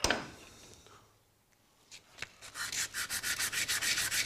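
Emery cloth rubs metal on a flat block while a GS1000 part is being worked. Faint scuffs at first give way to steady, rhythmic back-and-forth sanding strokes, close and fairly loud.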